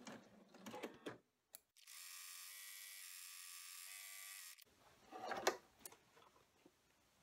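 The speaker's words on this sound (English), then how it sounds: "now the next step is to go run the cut line stitching" An embroidery machine running cut line stitching for an appliqué piece, a steady whirring mechanical hum with rapid needle clatter lasting about three seconds, bracketed by quieter handling noises before and after.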